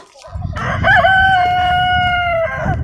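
A rooster on a farm gives one loud, close, drawn-out crow against steady outdoor background noise.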